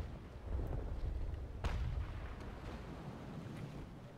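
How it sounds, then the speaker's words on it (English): Ship cannons fire in the naval combat game Naval Action as a low, rumbling series of booms. The deep blasts roll together like a ragged broadside, with a sharper report partway through, over a heavy, continuous low roar. "volley fire"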